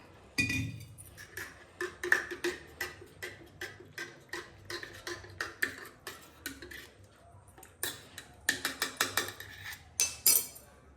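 Milk is added to protein powder in a glass and stirred, giving a run of quick, close metallic spoon clinks against the glass with brief pauses in between.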